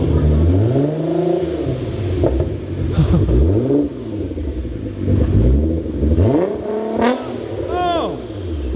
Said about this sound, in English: we're gonna give it a few little baby revs because this thing still isn't tuned